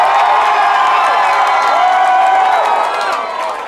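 A concert crowd at a benefit show cheers loudly, with voices shouting and whooping in a dense roar that eases slightly toward the end.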